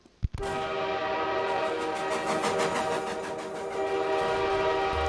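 A train sound effect in Team Fortress 2 starts abruptly and holds steady, a sustained horn-like whistle tone over rumbling wheels and rhythmic clatter, fairly loud and close.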